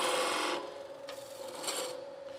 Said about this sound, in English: Just putting it on the bevel to make a clean cut.